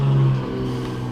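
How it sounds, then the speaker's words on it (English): A truck engine in the video game Sonic Adventure 2 drones loudly and steadily in a low rumble, holding a constant pitch for about a second. "Loud truck, love it."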